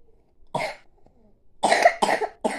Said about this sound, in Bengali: দেখেছো কিরকম কাশি হয়েছে তোমার?